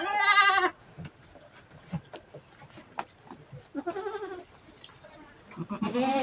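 A goat kid bleats loudly for its mother at the start and again near the end, with softer rustling and scattered thuds in between.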